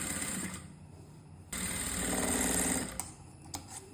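A sewing machine stitches over a frock or nighty seam in short bursts: a brief run, a pause, then a longer steady whir, followed by a few sharp clicks as it stops, all close up.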